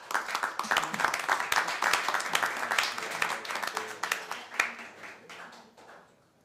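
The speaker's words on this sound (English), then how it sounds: "You can get a round of applause." An audience at a town council meeting gives a round of applause, a dense, crackling patter of many hands that holds steady for several seconds before thinning and fading out.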